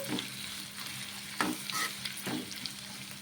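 Cucumber chutney being stirred into oil in a pan, with a steady close sizzle broken by several scraping spoon strokes.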